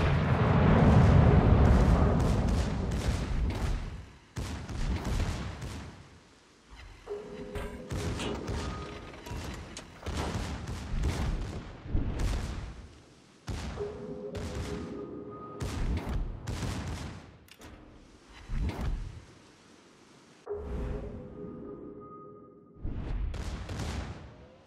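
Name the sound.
warship guns firing in naval video game World of Warships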